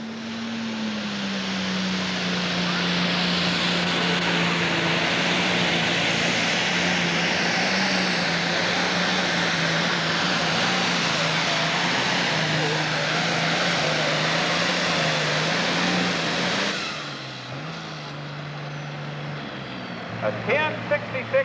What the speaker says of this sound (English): A 1066 International driven by Chuck Lee out of Macon, Missouri